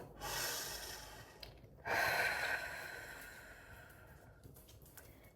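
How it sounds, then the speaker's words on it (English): A single deep breath is drawn in and slowly let out in a shower, a close airy inhale followed by a long soft exhale. "take a breath"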